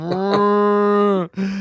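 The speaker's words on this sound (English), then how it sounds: "Is that the cows and chickens getting slaughtered in the background?" Cows mooing as part of a short jingle, one long sustained moo with rich harmonics running steadily, briefly broken near the end before a second moo resumes, loud and alone.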